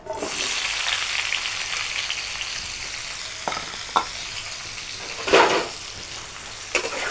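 Eggplant fries in a pan with a continuous loud sizzle, broken by a few sharp clinks and scraping stirs as the pieces are moved around.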